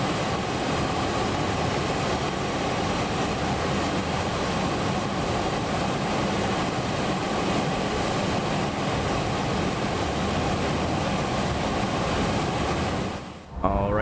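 Challenger 650 business jet taxiing on idle thrust in X-Plane, a steady broadband engine rush and whine held at constant loudness for the whole stretch, cutting off abruptly near the end.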